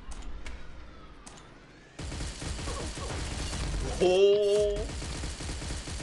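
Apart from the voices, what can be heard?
gunfire in the video game Pixel Gun 3D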